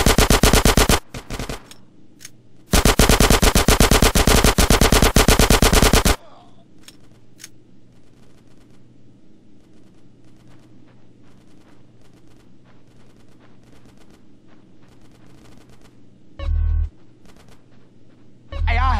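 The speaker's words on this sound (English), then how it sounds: "Get some suppressing fire in there!" Gunfire in a GTA San Andreas shootout: two long bursts of loud, rapid automatic fire close by, then a long quiet stretch with faint background sounds, and brief bursts of shooting returning near the end.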